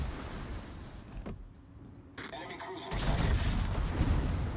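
Heavy naval guns from warships boom in a naval battle video game, a muffled blast followed by rumbling, broadband roar that swells louder toward the end.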